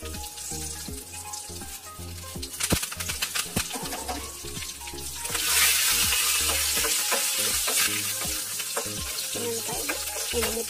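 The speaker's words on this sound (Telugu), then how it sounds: "రసంలోకి పోపు" Hot tempering of dried red chillies and curry leaves sizzles as it is poured into a pot of rasam, a sharp burst of frying hiss followed by steady crackling and stirring, close and loud.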